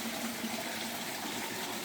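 Water runs steadily through a backyard creek and pond system lined with sand, pea gravel and silt, producing a loud, continuous rushing flow close by with no voices.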